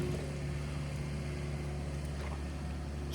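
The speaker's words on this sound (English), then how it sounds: "I'm just jumping in the excavator, and I'm going to push the pile up" A Takeuchi excavator works steadily while pushing up a burn pile: a continuous low engine drone with even hum, no pauses or other sounds.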